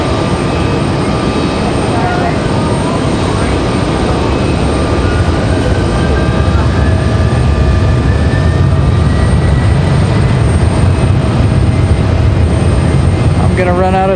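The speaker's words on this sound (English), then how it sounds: "Dang, a really steep go around too." An airliner doing a steep go-around at Raleigh-Durham airport produces a loud, sustained engine roar with a rising whine. It passes close overhead against wind noise outdoors.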